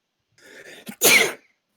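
A short, sharp sneeze-like burst from one person, preceded by a brief breathy intake, close and fairly loud.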